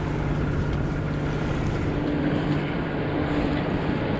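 A boat runs on its engine across a flat calm sea in a light breeze, making a steady low drone mixed with wind noise on the microphone and no talking.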